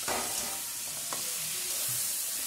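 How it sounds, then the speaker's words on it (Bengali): Chicken feet sautéing with ground cumin, coriander, turmeric, chilli and Kashmiri chilli powder while a spoon stirs them through, giving a steady close sizzle with scraping strokes and no talking. "দিয়ে খুব ভালো করে কষাবো"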